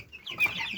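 Broiler chicks in a brooder, some of them sneezing, give brief high peeps and chirps at moderate distance in a short burst, with no talking.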